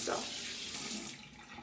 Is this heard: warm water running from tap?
yes